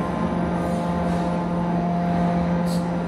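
Steady, continuous droning hum from generators at the surface of the South Deep gold mine, with a constant low tone and broadband rumble and no pauses throughout.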